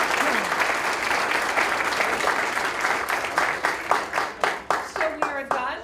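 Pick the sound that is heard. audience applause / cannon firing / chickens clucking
audience applause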